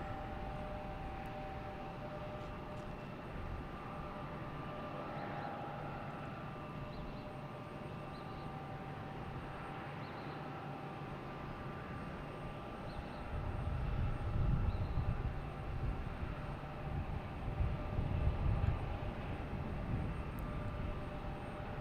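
A JetBlue Airbus A220 lands at Boston Logan Airport, heard as a faint, distant steady jet whine with a low engine rumble swelling louder in the final seconds.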